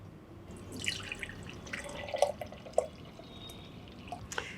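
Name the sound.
neem leaf juice being filtered, dripping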